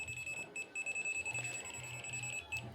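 A digital automatic smart multitester checking an electrical cable for breaks gives a continuity beep: one sustained, shrill electronic tone that holds for nearly three seconds, close and clear over a soft low hum.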